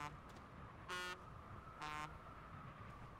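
Two loud, buzzy horn blasts from a glitch in the space survival game Astroneer, each about a quarter second long and about a second apart, sounding over a faint background hum.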